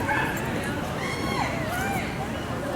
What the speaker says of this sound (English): That little dachshund.